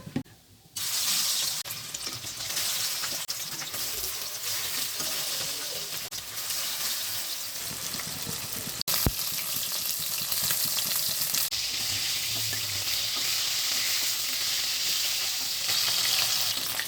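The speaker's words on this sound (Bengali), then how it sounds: "তেল গরম হয়ে গেছে এবার মাছগুলো আমি ভেজে নেব" Bhola fish fries in hot oil for a mustard-poppy fish curry, giving a loud, steady, close sizzle that runs almost unbroken from just after the start to the end, with no talk over it.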